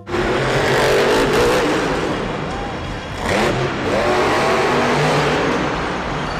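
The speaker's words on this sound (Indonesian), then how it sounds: "Mobil truk monster, teman-teman." A toy monster truck's engine revs loudly and steadily, sustained for several seconds with a brief dip in the middle, over a busy background with faint voices.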